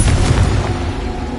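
A Confringo spell in Hogwarts Legacy goes off as a single loud, close, rumbling explosion that fills the moment and fades slowly.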